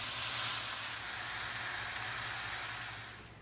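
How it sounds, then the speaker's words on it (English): Hash browns fry in hot oil in a pan, giving a steady, close sizzling hiss that fades slightly toward the end, with no talking. "add in our hash browns and get them frying up"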